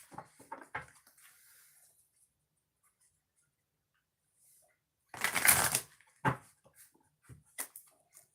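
A deck of oracle cards is handled and shuffled by hand nearby: soft scattered ticks, a long quiet pause, then a loud riffling burst followed by a few short card flicks.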